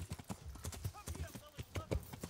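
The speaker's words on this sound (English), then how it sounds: "Let me ride my horse away." Galloping horse hooves in Kingdom Come: Deliverance, a rapid steady clip-clop running throughout under a man's speech.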